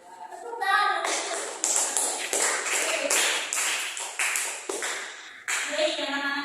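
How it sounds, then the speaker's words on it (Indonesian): Classroom applause in a micro-teaching lesson after a student group presents on how to make coffee, with dense hand clapping sustained for several seconds and brief pauses, some children's voices mixed in. "Tepuk tangan."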